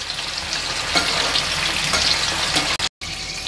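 Prawns frying in a pan and stirred now and then: a loud, steady, close sizzle with soft stirring scrapes, cut by a very brief gap near the end.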